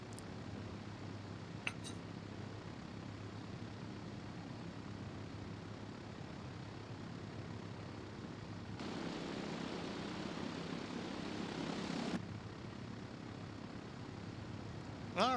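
Twin piston engines of a BN-2A Islander aircraft in a flight simulator game run at a steady, even drone, with a brief brighter, louder stretch in the middle, with no talking.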